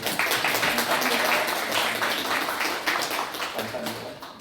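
A church congregation claps in welcome, a loud, even wash of applause from many hands filling the sanctuary, with a voice talking briefly over it.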